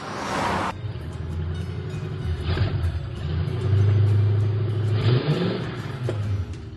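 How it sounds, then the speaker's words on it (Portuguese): A Volkswagen Beetle (Fusca) passes along a roadside, its engine rumbling loudly and swelling to a peak midway before easing off, with a steady low drone throughout and no talking. "Esse que passou agora foi um fusquinha, né"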